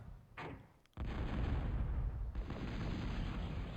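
Long-range plasma cannon firing in a video game, a sudden heavy blast that swells into a sustained roaring rumble, loud and alone, after a short fainter burst just before it.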